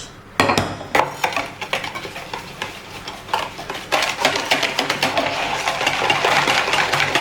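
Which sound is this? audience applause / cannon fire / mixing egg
mixing egg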